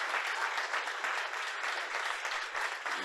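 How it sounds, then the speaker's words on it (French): Applause from a church congregation at a Haitian ministry service, a dense, steady wash of many hands clapping at once, close and continuous throughout with no voices rising above it. "N'acclame pas frénétiquement, acclame réellement."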